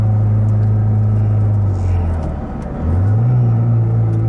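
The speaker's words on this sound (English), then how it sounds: "All right, second gear. Do a quick little pull here." Car with a newly installed transmission mount pulling in second gear, engine drone rising steadily, dipping briefly around a shift, then climbing again, heard from inside the cabin.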